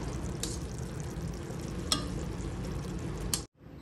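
Boiled rice tipped onto cooked vegetables in a pot for veg biryani, giving a steady close sizzle and frying hiss with a few sharp scraping accents, cutting off abruptly near the end; no talk.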